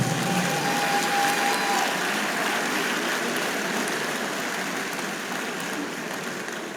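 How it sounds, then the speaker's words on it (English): Sustained applause from an audience at the opening ceremony of a general conference fills the room as an even, dense hiss of many hands, fairly loud and slowly tapering off over nearly seven seconds with no talking. "another round of applause"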